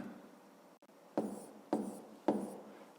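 Pen scratching out maths working on paper, three distinct writing strokes in quick succession, close and fairly quiet, with no talking.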